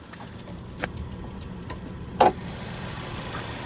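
A 2025 Chevy Equinox ACTIV's 1.5-litre turbo four-cylinder engine idles with a low, steady hum, punctuated by a couple of faint ticks and one brief louder click.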